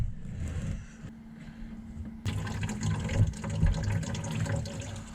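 Coolant water drains from a 7.3 IDI truck radiator, starting as a thin trickle and then rushing into a fuller, louder splashing stream partway through, heard close with no talking.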